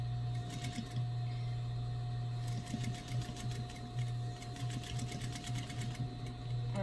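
A sewing machine stitching dress straps hums steadily and close at hand, its motor drone unbroken for about seven seconds with small variations in pace and no talk.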